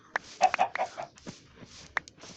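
Chickens on a Thai homestead give a quick burst of short, close clucks, then scattered softer clucks and one sharp cluck near the end, all without talk.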